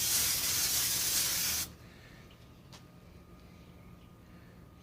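Steady hissing spray aimed at a drum smoker runs loud for over a second and then cuts off, leaving faint background quiet.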